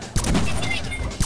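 Rapid gunfire bursts in a Roblox daycare escape game, a dense crackling volley with a sharp burst at the start and another at the end, close and loud.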